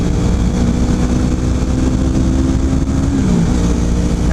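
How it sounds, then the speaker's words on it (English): A 250cc motorcycle engine held at full throttle, a steady loud drone with a sustained harmonic tone that shifts pitch slightly near the end, no talking over it. "We're full throttle."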